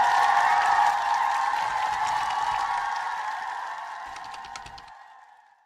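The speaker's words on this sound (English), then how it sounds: "Enough of applause, enough of applause, enough of applause already." An audience breaks into sustained applause that starts full and steady, then gradually thins and fades away over about five seconds, with no talking over it.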